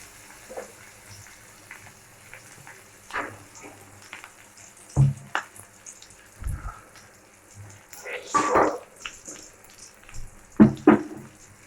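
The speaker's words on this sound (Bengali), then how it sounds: "পেঁয়াজটা আমরা হালকা করে ভাজবো" Chopped onion frying lightly in a small amount of oil in a pan, a soft sizzle broken by scattered utensil clinks and scraping.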